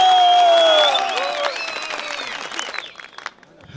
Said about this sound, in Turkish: Bir kuvvetli alkış daha istiyorum ben kendisine.